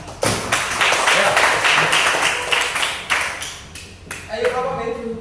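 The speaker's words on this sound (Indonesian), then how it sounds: "Tepuk tangan untuk kelompok B." Elementary school class at SDN Manyaran 2 clapping for group B, a burst of hand claps close by with voices talking over it.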